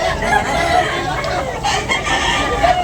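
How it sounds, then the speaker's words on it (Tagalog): Roosters crow repeatedly among many caged chickens offered for sale at a rainy market, with clucking throughout, loud and close, and voices murmuring in the background. "Daming manok ni Boss Nyeri"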